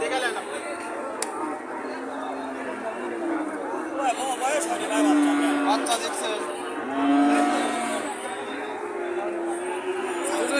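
Cattle low and moo at an open-air market for Friesian bulls. The calls come at moderate distance over a constant hubbub of crowd chatter and nearby talking.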